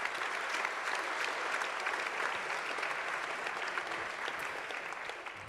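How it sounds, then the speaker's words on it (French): An audience claps for the students who organized a conference session at the Cité de la Réussite, producing dense, sustained applause that holds steady before easing slightly at the end. "applaudir les étudiants qui ont préparé cette rencontre"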